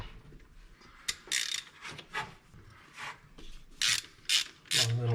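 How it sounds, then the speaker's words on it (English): Ratchet clicking in uneven bursts while spark plugs come out of a 1966 Ford F100 engine that sat unused for 30 years, close and fairly loud, with short pauses between strokes. "I'm gonna pull the plugs out and see if there's any rust"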